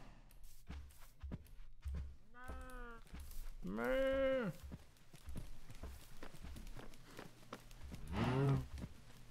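Several cattle moos from Minecraft cows ring out in separate drawn-out calls, with game footsteps and clip-clop sounds between them and no talk.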